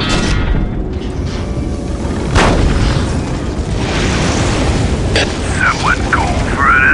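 Earthshaker artillery shells slam down in the Warhammer 40K Dawn of War strategy game, heavy booms and cracks over constant battle rumble, with voices talking throughout.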